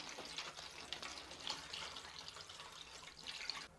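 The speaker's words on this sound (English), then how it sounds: "Go ahead and bottom water these guys." Water pours steadily into a seed tray of Feverfew and Starflower seed cells for bottom watering, a continuous soft splashing trickle up close with no talking.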